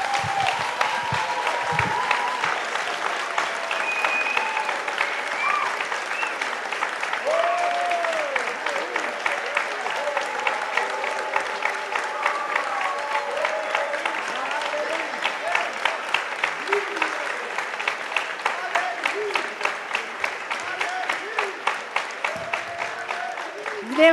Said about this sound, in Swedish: Jag tycker att vi står upp och ger en riktigt kraftig applåd